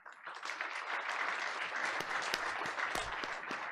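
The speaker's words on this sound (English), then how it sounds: "So big round of applause to all of you." A room at a board of education meeting breaks into applause, steady dense clapping from a modest crowd lasting a few seconds.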